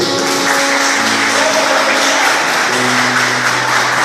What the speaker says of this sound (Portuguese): Dê uma apresentação de palmas ao Senhor Jesus.